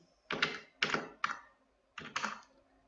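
Keys tapped on a computer keyboard while entering month names into an Excel spreadsheet: four short bursts of clicking, three close together and one after a pause, near and clear with no talk.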